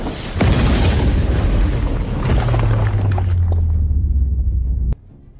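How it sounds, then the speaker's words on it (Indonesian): A forbidden world-destroying thunder spell detonates as a massive, roaring explosion with a deep, sustained rumble that holds for several seconds before cutting off abruptly. "Jurus terlarang. Guntur pemusnah dunia."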